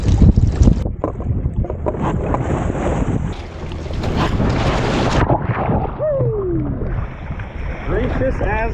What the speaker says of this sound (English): the wind died down a little bit, but the gusts keep coming in